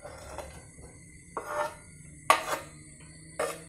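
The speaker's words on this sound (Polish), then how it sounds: "Rozgrzewamy patelnię, dolewamy odrobinę oleju, przekładamy składniki na patelnię." Ingredients for scrambled eggs moved into a heated frying pan with a little oil, giving four separate light clinks and scrapes of utensil on pan spaced about a second apart, with quiet background between.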